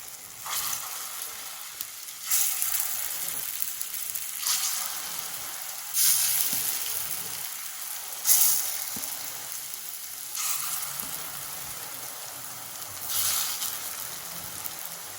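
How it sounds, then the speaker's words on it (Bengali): Lentil fritters fry in hot oil, giving a continuous close sizzle that swells in recurring bursts as the pieces are stirred and lifted, with no talking. "বাকি বড়াগুলো ভাজা হয়ে গেছে"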